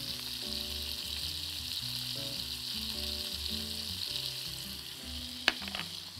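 Minced garlic frying steadily in a pan, a continuous close sizzle throughout with a brief sharp clink near the end.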